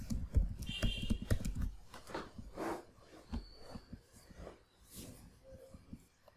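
A password is typed on a computer keyboard in quick, close keystroke clicks, a dense burst at first and then scattered taps, with a faint voice underneath.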